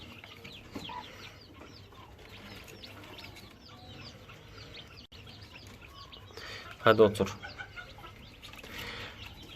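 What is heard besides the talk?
silver Sebright broody hen clucking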